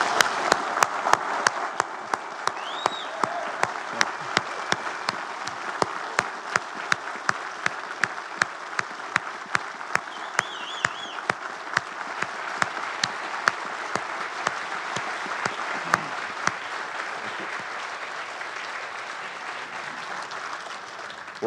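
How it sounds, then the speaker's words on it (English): A large outdoor crowd at a birthday ceremony for President Reagan applauds the Marine Band, a long, dense, even wash of clapping with sharp nearby claps standing out, and faint voices beneath. "Please join me in another round of applause for the Marine Band."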